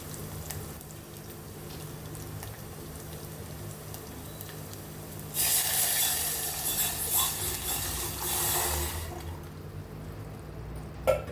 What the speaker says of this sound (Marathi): ते टाकूया फोडणीत.